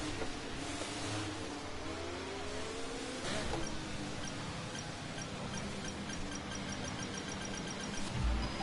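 Race car engine on the F1 23 grid at Bahrain, a low steady idle hum with slow pitch shifts and a brief sharper rev burst near the end.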